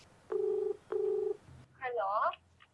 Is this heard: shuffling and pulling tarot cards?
no